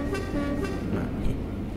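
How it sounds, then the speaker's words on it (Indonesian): A locomotive horn in the railway simulator Trainz 2009 blares in a couple of short, loud, bright tooted blasts over a steady rumbling engine drone. "Klakson."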